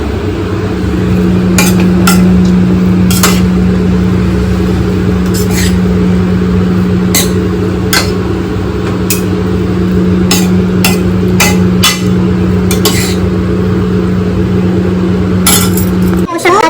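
Two spoons clank and scrape against a pan as veg Hakka noodles are tossed, giving irregular metallic clinks over a steady sizzle and background hum, with voices talking now and then.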